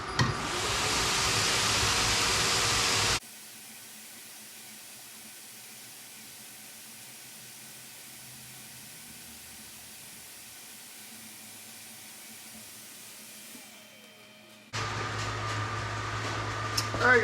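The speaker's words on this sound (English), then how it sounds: "let me cut the vacuum table on" A vacuum table under an XTool D1 laser engraver roars with a loud steady broadband hiss, cuts out into a long quiet stretch with a faint hum, then starts up again at the same strength.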